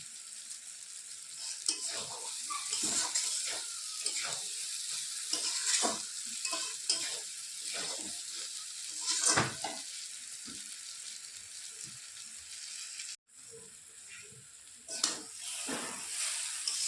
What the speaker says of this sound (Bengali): আমার ভালোভাবে কষানো হয়ে গেছে সবজিটা